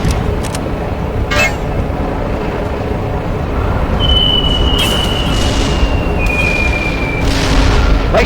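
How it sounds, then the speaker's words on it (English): Artillery bombs explode during fire support in the video game Darkest of Days, giving a loud, continuous rumble of booms with a faint whistling tone drifting over it. "Use those bombs."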